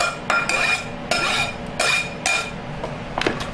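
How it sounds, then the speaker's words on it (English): Chopped apples and onions are tossed into a bowl, producing several close, rattling clatters and scrapes in uneven bursts, with brief quiet gaps between them. "I'm just going to take my apples and my onions and toss it in there just like that"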